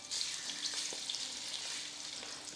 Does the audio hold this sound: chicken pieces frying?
yes